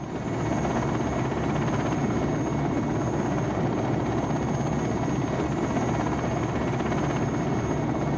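A helicopter flies steadily overhead, its rotor chop and engine drone holding a constant, loud level throughout with no voices.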